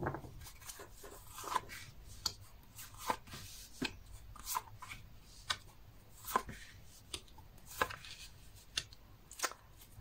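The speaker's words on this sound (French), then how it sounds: "mélanger les cartes et ensuite placer les 4 cartes sur la table" Tarot cards being shuffled by hand on a table, giving soft repeated riffles and taps in an irregular rhythm, close and fairly quiet, with no voices.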